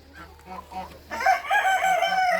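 Rooster crowing loudly and close in a poultry yard, following softer hen clucks in the first second, with chickens, geese, Cochins, Australorps, bantams and a turkey kept together on a rainy day.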